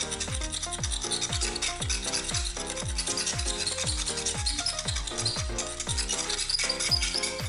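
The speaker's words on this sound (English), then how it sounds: "Now I'm using the blade to scratch over it." A blade scratching across a tempered glass screen guard, rapid repeated rasping strokes in a steady rhythm, close and fairly quiet, with no talk.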